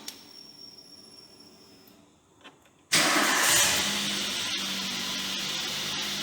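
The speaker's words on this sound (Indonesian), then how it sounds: "Baru kita hidupkan untuk engine-nya." A car engine with its transmission in neutral cranks and catches after a quiet stretch, then settles into a loud, steady idle close by, with a fault showing on the check engine light.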